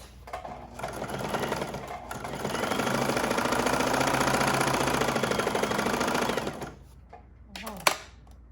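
Sewing machine running a back stitch along a skirt seam, a steady fast mechanical whir that speeds up and holds for several seconds before stopping, followed by a short click near the end.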